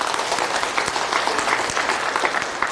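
An audience at a church revival lecture claps in a dense, steady burst of applause that fills the room for a few seconds with no talking.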